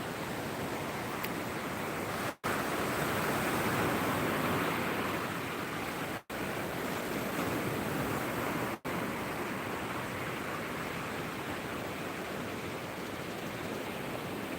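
Surf rolls onto Seminyak beach in Bali as a continuous broad wash of breaking waves, loud and unbroken for the whole stretch apart from a few brief dropouts.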